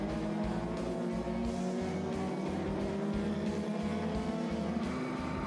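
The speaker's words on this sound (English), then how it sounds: "this really is a fantastic display of close, clean racing" Race cars roar steadily around a racing circuit at close range, engine drone loud and continuous with pulsing gear and throttle changes throughout, no voices over it.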